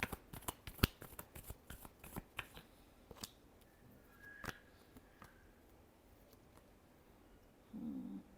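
A deck of tarot cards is shuffled by hand. Close, crisp clicks and snapping riffles come quickly at first, then space out and fade into quieter handling.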